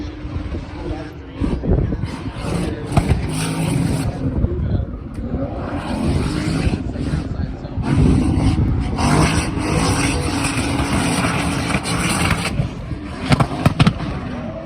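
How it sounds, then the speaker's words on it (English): Formula Drift cars drifting at a 2023 round in Grantsville, a steady loud roar of engines and tyre noise with sharp bursts and crackles, crowd-level ambience throughout. "We're out here drifting."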